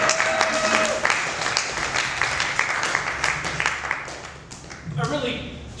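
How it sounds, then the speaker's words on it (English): Audience applause at a bar open mic, a crowd clapping at moderate volume with scattered sharp claps, mixed with voices and room chatter, thinning out toward the end. "Big round of applause for Robert Peru."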